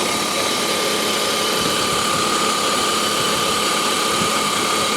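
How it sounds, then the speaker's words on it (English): A 1995 BMW 525i with a timing-chain-driven straight-six idles steadily up close, a smooth continuous mechanical hum with a faint whine and even ticking throughout. "Good old straight 6. This is the timing chain driven 6"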